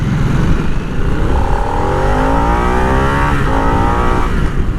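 Harley-Davidson Nightster motorcycle with a variable-timing engine accelerating hard to 60, loud and close, its engine note climbing steadily through rising revs with a gear change partway through, no talking.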